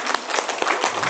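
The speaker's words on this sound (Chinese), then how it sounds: "再次热烈掌声" Applause from an audience at a Buddhist reading group gathering, steady dense clapping filling the whole short moment without breaks.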